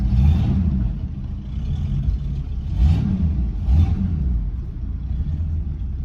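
Steady low rumble of a 1973 Ford Maverick's engine while cruising, heard from inside the car, with a few brief surges in revs and light road hum beneath.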